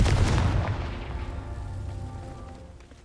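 Confringo spell blasts in Hogwarts Legacy go off as a deep booming explosion that hits hard at the start and then rumbles away into a long, slowly fading tail.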